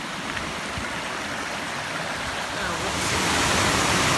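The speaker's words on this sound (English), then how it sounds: "You hear that sound? We found our first waterfall." A small waterfall on a Mt. Diablo trail gives off a continuous hissing rush of falling water that swells slightly louder toward the end, heard up close.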